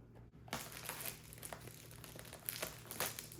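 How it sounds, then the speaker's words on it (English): Scissors cut the plastic wrap off a DJI Osmo Pocket 3 camera box, giving quiet, close crinkling and snipping with a few sharper rustles over a few seconds. "I got some scissors to get the plastic off."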